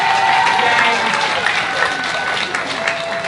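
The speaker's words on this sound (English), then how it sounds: "Can we give Yang a big round of applause?" Audience at a Queens Library 20th anniversary celebration in Flushing gives a loud, dense round of applause, steady and close throughout with a faint whistle-like tone and murmuring crowd beneath.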